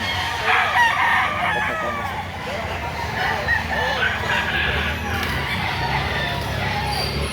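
Roosters crow and chickens cluck continuously in a busy, crowded poultry market in Lipa, Batangas, with people talking underneath the birds.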